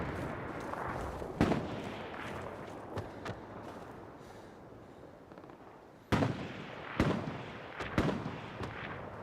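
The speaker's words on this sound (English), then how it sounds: "So there's artillery right there." Artillery fire in the World War II shooter Hell Let Loose, heard as scattered heavy booms: one early blast, then a cluster of four sharp impacts near the end, over a steady rumbling battlefield backdrop.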